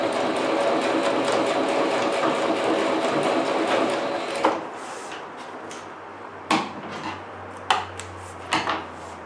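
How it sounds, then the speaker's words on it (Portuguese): Sewing machine stitching fabric for a cat vaccination card cover, a steady whirring run of needle strokes that stops abruptly, followed by a few short sharp clicks and knocks as the backstitch is made. "vou costurar até aqui no meu alfinete e dar o retrocesso"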